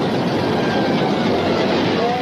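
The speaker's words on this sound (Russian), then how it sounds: "Поезд за поездом шли в далекие края" A train rumbles along its rails in a constant loud roar, with a faint metallic whine running through the steady noise.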